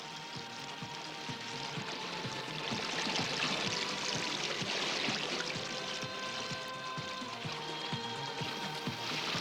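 A small remnant stream of spring water runs from a tapped spring near Gostivar in the Polog region, a steady, even rushing flow heard alone with a faint tonal hum throughout.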